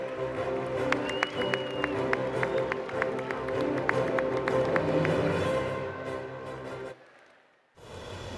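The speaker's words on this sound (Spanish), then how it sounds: "Fuertes los aplausos para México." Audience applause for Miss Mexico at a pageant final night, steady dense clapping with sharp individual claps over a busy hall, then fading out abruptly near the end.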